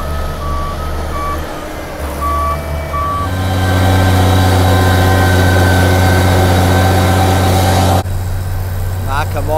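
A road grader with large blades between its wheels works a kart racing track extension, its loud steady diesel engine droning close by under intermittent reversing beeps, with the engine note rising and holding heavy throughout.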